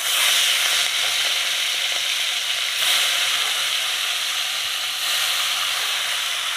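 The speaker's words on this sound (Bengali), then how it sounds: "মাছটা ভাজতে দেবো" Floured, pepper-coated prawns fry in hot oil in a wok. The loud, steady hiss and sizzle swell slightly a few times and last through the whole stretch, with no talk.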